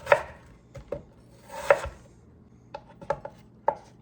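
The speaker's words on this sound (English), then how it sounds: "So I'm just gonna give this apple a rough chop" Knife roughly chopping an apple on a cutting board: a few separate sharp chops spaced irregularly, close and fairly clear with no talk.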